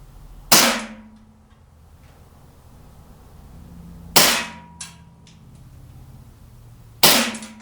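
A KWA M1911A1 gas blowback airsoft pistol fires three separate sharp cracks a few seconds apart, each with a short mechanical snap, close by and without speech.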